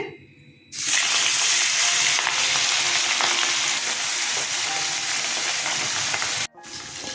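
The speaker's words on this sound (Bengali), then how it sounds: "সর্ষের তেল দিয়ে দিচ্ছি, হয়ে গেছে, মাছ ছেড়ে দিচ্ছি।" Katla fish dropped into hot mustard oil, bursting into a loud, dense sizzle right after a quiet start and holding steady for several seconds before a brief cut.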